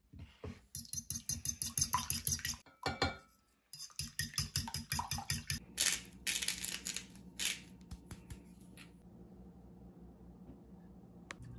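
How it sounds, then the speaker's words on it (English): Eggs and milk whisked for a mushroom omelet: rapid rhythmic clicking of a utensil against a bowl in fast bursts with a short pause, then fading into quieter scraping and clinks. "so like a mushroom omelet, whisk it up with some of this milk that I have left"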